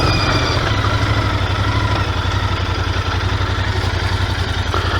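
A Royal Enfield Interceptor motorcycle engine idles nearby, a loud, even low rumble with a fast regular pulse and faint mechanical clatter, continuous throughout with no talking.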